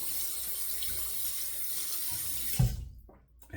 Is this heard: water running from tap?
yes